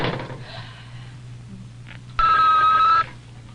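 A telephone in a hotel room rings once, a loud, close, electric ring lasting under a second over a quiet low hum, with no talk during it.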